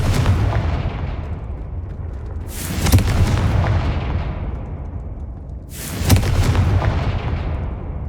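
Confringo spell blasts go off in the Hogwarts Legacy video game, two loud booming explosions a few seconds apart, each with a sharp crack that fades into a rumbling tail over steady game sound.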